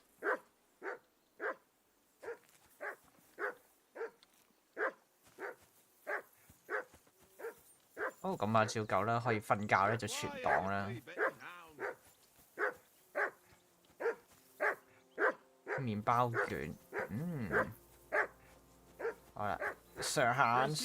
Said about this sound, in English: assume you can hear that damn dog of yours barking.